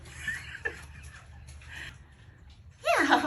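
A young chicken gives a few faint clucks early on, then a louder rising squawk near the end, close by over quiet background noise.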